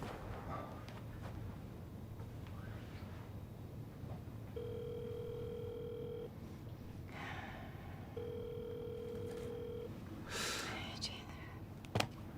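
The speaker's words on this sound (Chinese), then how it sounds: "我给刘正打电话。" Two long, steady telephone ringing tones separated by a pause, with quiet voices and background noise around them.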